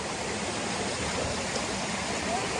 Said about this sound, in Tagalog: dito tayo sa may sapa